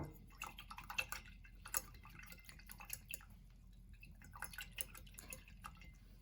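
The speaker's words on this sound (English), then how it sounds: "I'm gonna go ahead and wash and dry both of my brushes." Paintbrushes being rinsed in water, giving faint, irregular drips and small splashes close by with no talking.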